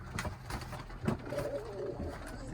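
Pigeons cooing inside a loft, soft repeated rolling coos from several birds close by, with light wing and shuffling noises and no talk.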